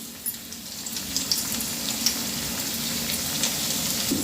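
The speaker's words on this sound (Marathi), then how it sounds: "दोन्ही साईडनं करंज्या तळून घ्यायच्या।" Karanji pastries deep fry in hot oil, a steady bubbling sizzle with faint crackles and pops, close and continuous throughout with no voices.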